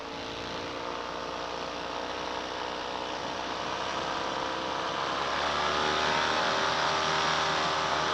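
MacFly Viper paramotor trike engine runs at high power during a gentle launch, a loud continuous buzzing drone with a steady propeller hum that holds nearly constant and grows slightly louder toward the end, with no voices.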